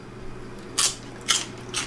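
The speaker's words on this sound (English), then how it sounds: "you munch on while you're cooking" Three crisp crunchy bites on a raw vegetable piece snacked on while cooking chicken and dumpling broth, each a short bright burst about half a second apart over a steady kitchen hum.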